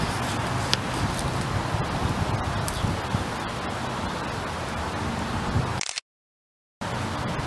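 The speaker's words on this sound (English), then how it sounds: "wind blowing doesn't screw with my focus too much" Wind blows steadily outdoors in an inner-city spot, a continuous broadband rush with leafy rustling that holds loud and even, then cuts out completely for under a second before resuming.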